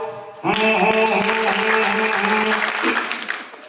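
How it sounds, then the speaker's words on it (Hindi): An audience at a Hindi comedy poetry show bursts into loud, sustained applause that starts abruptly and carries on for about three seconds before thinning out. "आप तालियां बजाओ"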